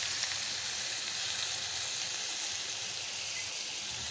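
Finely chopped onion, green chili and garlic sizzle steadily in white oil over low heat, a dense, even frying hiss that carries on without pause and sits close to the pan.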